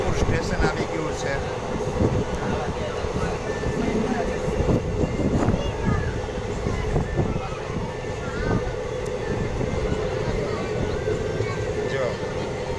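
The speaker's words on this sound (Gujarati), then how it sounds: "આ રીતે ટ્રેન જઈ રહી છે" A train runs toward Junagadh near Shahpur station, with a steady close rumble and rattling clatter that carries through the whole stretch while a voice speaks now and then.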